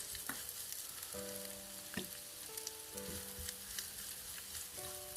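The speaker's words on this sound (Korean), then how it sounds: "이제 양념해 놓은 건가지를 볶아주면 되겠습니다" Seasoned dried eggplant stir-fried in a frying pan with cooking oil and perilla oil, a continuous close crackling sizzle with intermittent scrapes and knocks of a spatula against the pan, no voices.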